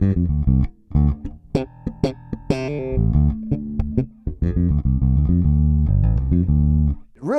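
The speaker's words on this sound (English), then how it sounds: "That's a nice hi-fi zingy kind of P-bass sound." A Fender Player II Modified Precision Bass plays a melodic line of plucked notes with a bright, hi-fi, zingy P-bass tone, clear and up close with no talk.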